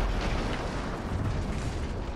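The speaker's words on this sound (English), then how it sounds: "That explosion was one of the sweetest sights of the war for me." A Battlefield 1 explosion rumbles as a sustained, dense roar of low booming and crackle, steady and loud throughout with no voices.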